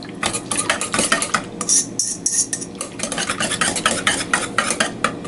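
Whisk clinking steadily against a bowl while sour cream and spices are beaten together, a loud, close, rapid rhythmic scraping that runs the whole time with a brief pause midway.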